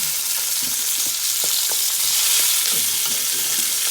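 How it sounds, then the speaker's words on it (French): Chicken and potato pieces fry in a very hot pan of oil for a curry, giving a steady, close crackling sizzle with scattered pops and spits and no talking. "vous l'entendez, ça frétille"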